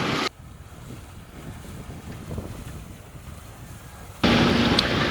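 A sailboat runs under genoa and mainsail at about five knots, with steady rushing wind and water along the hull and bursts of wind buffeting the microphone at start and end.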